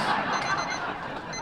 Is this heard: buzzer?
yes